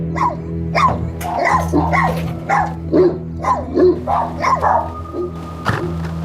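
Several dogs at home bark furiously at a delivery man, a rapid run of loud, close barks and yelps with short gaps between them, set over a steady low hum.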